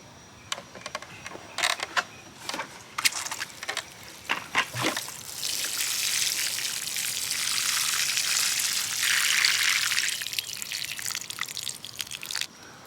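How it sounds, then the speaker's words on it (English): Water poured from a can onto freshly planted herbs in a garden planter: a few scattered drips at first, then a steady close splashing trickle for several seconds that tapers back to intermittent drops, with no talking. "Now that we're done planting, it's important that we water."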